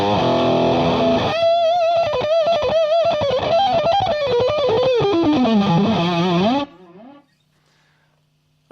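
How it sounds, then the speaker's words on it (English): Electric guitar runs through the germanium overdrive mode of a Strymon Sunset pedal. A loud, close melodic line is picked with fuzzy drive, the notes gliding downward, before the sound stops and a brief tail fades out. "and then I have the germanium, which sounds like this."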